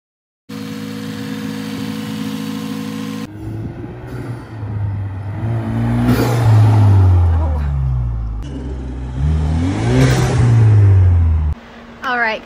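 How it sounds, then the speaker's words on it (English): A Lexus IS200t turbo engine fitted with a BMS air intake idles, then revs up hard several times with rising and falling engine tone and audible turbo whoosh, loud and close. "now you can definitely hear that turbo"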